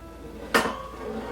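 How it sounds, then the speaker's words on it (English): A wire cooling rack set on a cake pan of gluten-free apple cider donut cake and flipped over gives one sharp metallic clank, followed by a short rattle that fades into quiet room tone. "Place the cooling rack on top of the pan, like this. And then invert it"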